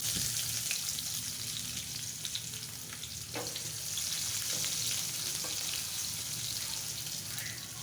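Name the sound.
chopped onion sizzling in hot oil in a wok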